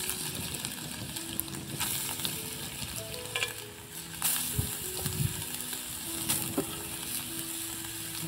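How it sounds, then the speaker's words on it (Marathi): Grated carrot roasting in ghee in a pan, a soft steady sizzle broken by scraping stir strokes and a few sharp clinks of a spatula, close and continuous with no voices. "आता किसून घेतलेलं गाजर भाजून घ्यायचं आहे आपल्याला तुपामध्ये"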